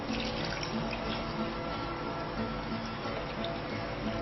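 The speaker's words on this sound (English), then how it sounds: "So I measure about 1 liter of water." Tap water runs steadily into a pot during a cooking class, about one liter measured out, a continuous close splashing hiss with no voices.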